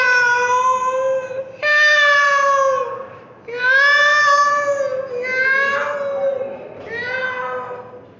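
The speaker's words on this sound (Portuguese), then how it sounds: "começa a miar como se estivesse tentando lhe avisar algo" A black cat gives a series of long, drawn-out meows, about five in a row, loud and close with brief pauses between them.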